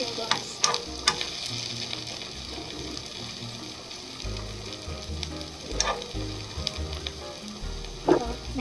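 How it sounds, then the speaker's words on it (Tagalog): Okonomiyaki batter with cabbage fries in a pan with a steady close sizzle, broken by a few sharp clinks and scrapes of a utensil. "So, medyo mabilis lang siya i-fry."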